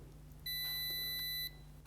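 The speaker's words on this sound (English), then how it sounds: "Press and hold the transmitter button on the safety edge for a few seconds. You'll hear another single beep." A RollMatic wireless receiver gives a single clear electronic confirmation beep during programming of its wireless safety edge, about one second long and steady in pitch, against a quiet background hum.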